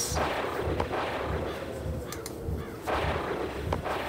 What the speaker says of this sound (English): So I'll just try to cast the Force Bolt spell.